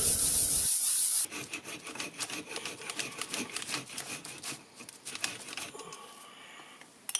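Bog oak and bone knife handle pieces rubbed flat against a flat rock, a continuous scraping and grinding with uneven strokes, close and moderately loud.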